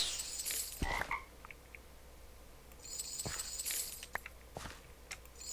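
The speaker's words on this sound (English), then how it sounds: "Magic teleporting frog." Frogs croak in the Minecraft video game, mixed with scattered game sound effects and clicks, several short bursts spread across the stretch and fairly faint overall.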